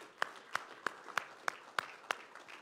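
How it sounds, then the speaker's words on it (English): Church congregation clapping in a slow, steady rhythm of about eight evenly spaced claps, faint and somewhat distant, without talking over them. "Come on, give yourself a hand clap."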